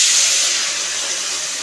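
Chopped half-green tomato dropped into a hot pan for a Bengali fish and brinjal curry, giving a steady, bright sizzling hiss that stays loud and even throughout, with no talking.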